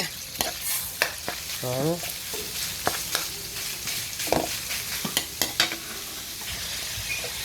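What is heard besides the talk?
ground pork sautéing and stirred in pan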